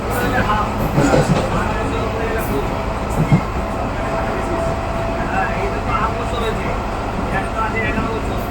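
A passenger train runs steadily with a broad rumbling roar and occasional clanks of the carriages, continuous and fairly loud; a person's voice is faintly present beneath the noise.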